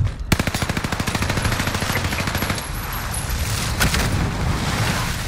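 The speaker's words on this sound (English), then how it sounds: "I'm getting shot at from a grenade launcher." Rapid, evenly spaced automatic gunfire rattles loudly for a few seconds in a video game firefight, followed by a sharp crack and continued booming rumble, consistent with grenade launcher fire and heavy shooting.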